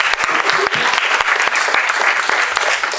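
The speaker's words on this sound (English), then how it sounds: "Give them a nice round of applause." Audience applause for the artists at a public art workshop, a dense, steady clatter of many clapping hands sustained at full loudness for about three seconds with a few sharper individual claps standing out.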